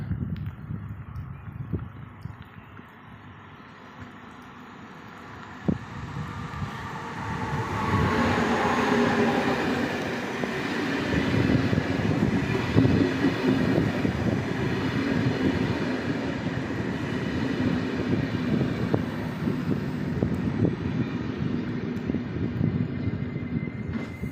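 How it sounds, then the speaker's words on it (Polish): An Intercity train rolls into a station, a low rumble that grows louder and fuller as it nears, with rattling wheels and squealing brakes sustained throughout. "wjeżdża pociąg Intercity"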